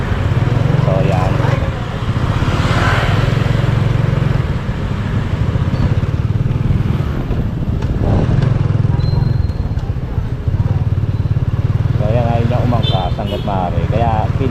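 A motorcycle engine drones loudly and steadily through a ride, rising and falling with throttle, while a person talks over it for most of the stretch and wind buffets the microphone.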